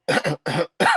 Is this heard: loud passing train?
no